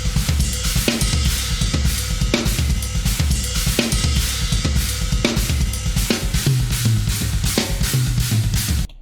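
A live drum kit plays a heavy kick-and-snare groove with a harsh China cymbal on top, dense and loud, ending with a fill.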